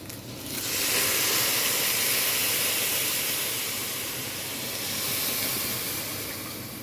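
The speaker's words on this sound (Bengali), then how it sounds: "এখন আমি ঠিক এভাবে করে পরিমাণ মতো জল দিয়ে দিব।" Water is poured into a pot where basmati rice is frying for mutton kacchi biryani, setting off a loud, rushing hiss of steam that swells after a short pause and holds for several seconds.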